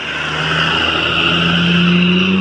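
A tour bus on a road toward Aceh revs up, its engine drone rising steadily and loud, with clear tonal harmonics climbing in pitch as it gathers speed.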